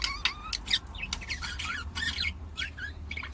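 A male pet bird squawks and chirps while courting a female, giving a close, busy run of sharp calls and short trills in quick bursts.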